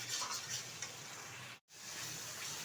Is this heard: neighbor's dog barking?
no